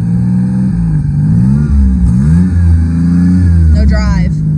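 A 1989 Toyota Camry wagon engine revs up and down in loud, rising and falling surges while the transmission fails to engage drive, with a person talking over it.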